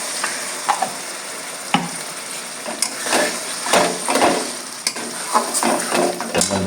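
Spice paste thinned with a little water cooking in a pan for a Bengali green jackfruit and prawn curry, giving a low steady sizzle broken by sharp clicks and scrapes of a stirring spoon, with no voices.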